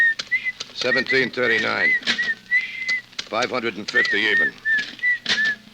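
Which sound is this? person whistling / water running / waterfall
person whistling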